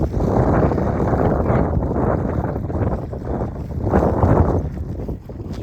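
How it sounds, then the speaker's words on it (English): Heavy wind buffeting an outdoor microphone during a walk in open fields, a loud continuous low rumble swelling and easing in gusts, with no clear other sounds. "Can't with the stupid wind."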